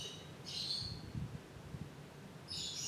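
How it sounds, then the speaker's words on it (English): A bird calls in the background indoors, two short high chirping bursts separated by a pause, faint and distant against low room noise and soft thumps. "And I apologize for the bird in the background."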